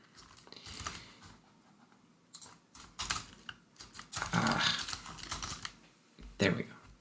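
Irregular bursts of computer keyboard typing during programming, with clustered clicks and a few louder key strikes separated by brief quiet gaps.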